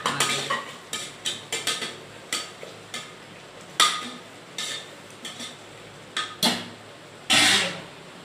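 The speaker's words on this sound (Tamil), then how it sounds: "இப்போ இதை நல்லா மிக்ஸ் பண்ணிக்கலாம்" Brinjal curry is stirred in a pan with a utensil, giving a close series of scraping, knocking strokes in an irregular rhythm, a few louder clanks among them, with no talking.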